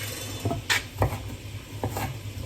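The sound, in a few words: stirring sweet potato in a pot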